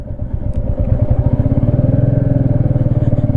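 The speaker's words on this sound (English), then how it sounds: "I have to leave the clutch a lot for the bike to move." A Royal Enfield Meteor 350 cruiser pulls away slowly, its single-cylinder engine thumping loud and close in a steady, rapid beat as the clutch is eased out.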